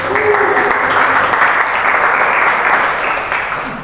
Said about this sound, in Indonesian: Boleh tepuk tangan yang keren dulu ya teman-teman.